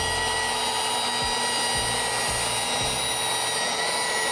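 Rotary polisher fitted with a foam jeweling pad running steadily on car paint, a constant close whine and hum with a few low thumps as the pad shifts against the surface.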